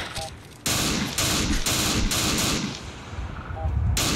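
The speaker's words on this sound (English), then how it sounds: "I love this rifle. That just sounds so good." Rifle gunfire in the video game Fallout 4, several loud, sharp bursts in close succession with brief gaps, ringing out over a rumbling background.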